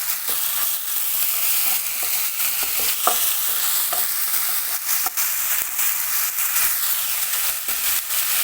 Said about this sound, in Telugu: ఆనియన్ ఎర్రగా వేగిన తర్వాత అల్లం వెల్లుల్లి పేస్ట్ని ఇందులో యాడ్ చేసుకోవాలి.